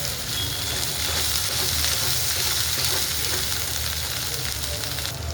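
Green peas sauté in hot oil in a pan for a paneer curry with onion, tomato and cashew, giving a loud, continuous sizzle and crackle with occasional stirring scrapes and no talking.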